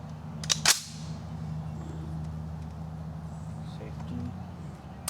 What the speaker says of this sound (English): we got Alex getting ready to shoot the M1 Carbine once again